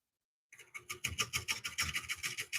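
A carbide scraper barely touching spinning wood on a lathe while turning a bowl, giving a steady rhythmic rasping scrape that pulses with each rotation, close and fairly quiet, starting after a brief silence.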